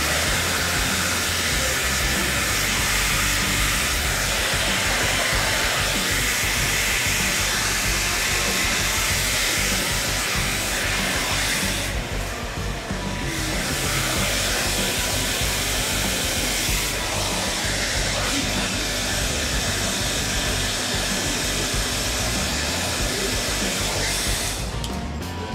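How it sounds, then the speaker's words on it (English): A blow dryer runs steadily while it dries and smooths a man's styled hair at a barber's, a loud, continuous airy hiss and whir with brief dips in pitch when the airflow is moved. "and use a blow dryer."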